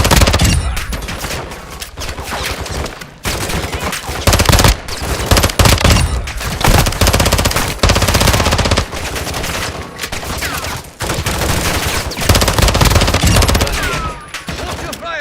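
Machine gun fire in the video game Call of Duty Warzone 3 DMZ: loud, close automatic bursts and rattling volleys packed across the stretch, separated by short gaps, with a radio-style game voice speaking at times.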